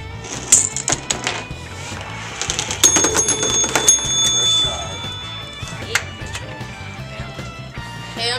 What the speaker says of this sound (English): the marbles roll down the another inclined plane and go into the bucket and hit the bell